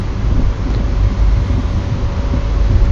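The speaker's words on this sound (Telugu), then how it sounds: "రాను ట్రైన్ బాగా స్లోగా చేయడం ఆరంభించాడు." The Dharmavaram express train (17216) slowing near Vijayawada rolls on with a steady, loud rumbling and rattling of wheels and carriages, continuous throughout with no voices.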